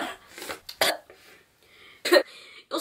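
A few short, sharp coughs separated by quiet gaps, close to the listener, with a faint tonal hum in between.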